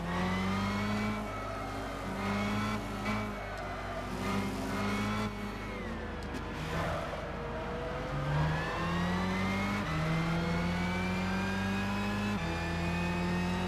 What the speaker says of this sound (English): The Ford GT Le Mans car's getting in my way.